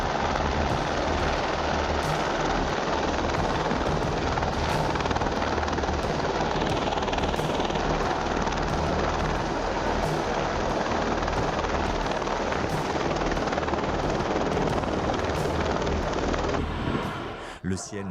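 A loud, steady roar of military display jets from the Blue Angels and Thunderbirds flying over New York, with a continuous engine drone throughout and rapid repeated beats, then a sharp cut at the end.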